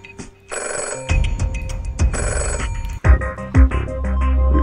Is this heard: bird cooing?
no